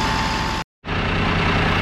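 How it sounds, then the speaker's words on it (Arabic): Volvo FL 250 truck from 2018, its diesel engine idling low and steady up close after a fault reset, with a brief drop to silence partway before the smooth rumble resumes. "الموتور صوته هدي تاني واطي خالص"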